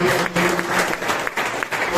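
Brief burst of audience clapping at an Independence Day celebration in a rehabilitation center, dense and fairly close, lasting about two seconds.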